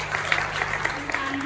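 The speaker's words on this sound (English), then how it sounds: "So give them a big clap." Audience at a charity gala dinner applauding, a dense patter of claps heard briefly and at moderate loudness.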